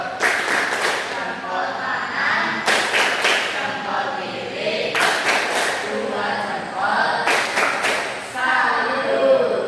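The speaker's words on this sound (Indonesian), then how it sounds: "Oke, tepuk jempol." A classroom group performs a rhythmic clapping cheer, four short bursts of loud unison claps spaced a couple of seconds apart, with voices chanting and talking between them.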